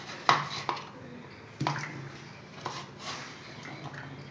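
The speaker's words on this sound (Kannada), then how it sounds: "ಈ ಥರ ಈರುಳ್ಳಿ ಚಾಪ್ ಮಾಡೋದಿರುತ್ತಲ್ಲ ಅದು ನಾವು ತರಿಸಿದ್ದು" An onion being chopped in a manual onion chopper, a few sharp plastic clacks and knocks spaced irregularly, close and fairly quiet in a kitchen.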